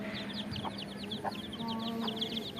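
On a village farm, small chicks peep in rapid, high, continuous chirps while hens give a few low clucks nearby, all close and moderately loud.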